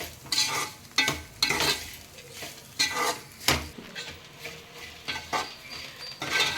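Native bitter gourd slices fried with sesame seeds in a pan, a spatula stirring and scraping in repeated strokes over a soft sizzle, with utensil clinks and no talking.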